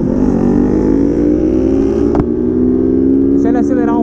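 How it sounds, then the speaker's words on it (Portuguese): Kawasaki Ninja and Honda CG Fan 160 motorcycles on the road, a steady loud engine drone that rises gradually in pitch as they accelerate, with continuous wind rush throughout. "Dá uma acelerada com a ninja."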